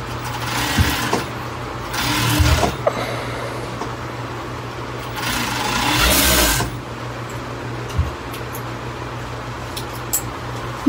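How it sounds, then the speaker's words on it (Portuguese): Overlock sewing machine stitching a waistband, with two longer whirring runs of stitching separated by quieter pauses and a steady background hum, close and fairly loud, no talking. "passo o overlock na cintura"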